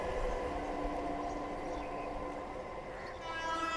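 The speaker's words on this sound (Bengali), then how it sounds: "আর আমাদের ট্রেন আসছে শান্তিপুর শিয়ালদা লোকাল।" A Shantipur–Sealdah local train pulls into platform 3 at Bidhannagar Road station, a continuous rumble of wheels and carriages with a tonal horn-like drone, fairly close and steady throughout.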